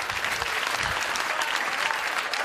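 A large comedy-show audience gives a sustained wash of applause, dense and even throughout, as many hands clap together at a moderate distance.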